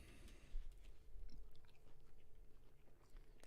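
Faint, close chewing of food, with soft irregular crunches and wet bites going on steadily amid quiet background noise.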